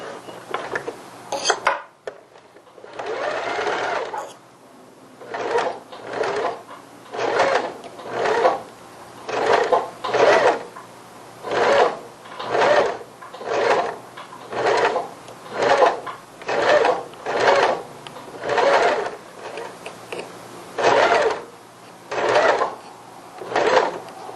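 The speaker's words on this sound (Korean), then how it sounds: "주름을 넣어줘가면서 박음질 하시면 됩니다" A sewing machine stitches pleats into a child's strappy dress in short, regular bursts, about two a second apart with pauses between, loud and close, with handling clatter at the start.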